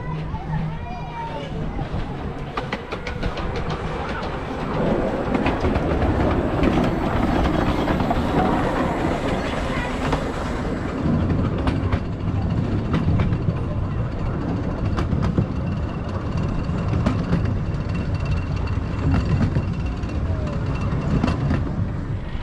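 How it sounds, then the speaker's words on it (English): A small noddy train runs toward a railway station, with a steady rumbling roll and faint clickety-clack over a continuous, moderately loud background throughout. "it looks like we're going to be catching a noddy train back up to the railway station."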